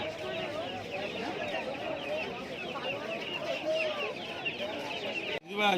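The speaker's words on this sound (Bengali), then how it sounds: "এখানে রয়েছে মুরগি আর হাঁসের বাচ্চা।" Chickens and ducklings at a pet market on Galiff Street in Kolkata cluck and peep continuously at close range, with voices murmuring over the birds and a short knock near the end.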